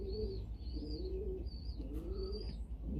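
Pigeons coo softly in a rooftop pigeon box, several low rolling coos repeating under a steady rumbling background, with a brief rustle of movement midway.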